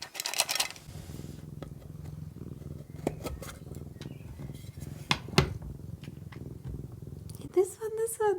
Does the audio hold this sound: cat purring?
yes